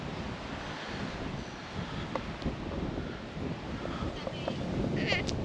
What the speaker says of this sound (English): I don't know if it's always this windy.